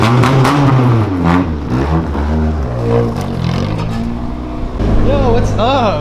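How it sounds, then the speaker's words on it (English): A Toyota AE86 drives into a garage, its engine rumbling and revving up and down close by, with people talking over it. "let me drive it into garage."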